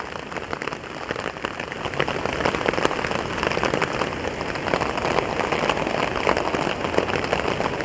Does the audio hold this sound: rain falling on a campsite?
yes